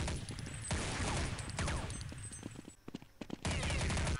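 Rapid automatic gunfire in Counter-Strike 1.6, dense bursts of loud shots that pause briefly and then resume.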